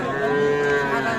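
A young bull calf, around three to four months old, lets out a single sustained moo at a busy livestock market, the tonal bellow close and clear over faint background murmur.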